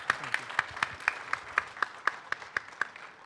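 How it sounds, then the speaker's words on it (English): Applause at a conference elevator-pitch competition comes through as steady, evenly spaced claps, roughly four per second, set against a softer wash of crowd clapping. It stays fairly faint and distant throughout. "Please, round of applause for Mr."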